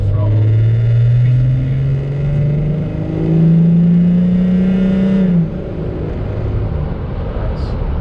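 A VW Amarok pickup with a 3.0 V6 TDI diesel and upgraded turbo pulls hard under throttle, its loud engine drone rising steadily in pitch for several seconds before easing off abruptly, heard from inside the cab.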